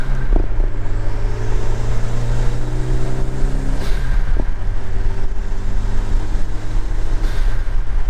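Interior rumble of a Toyota MR2 Turbo on the move, a continuous close drone with engine tones sliding up and down through gear changes.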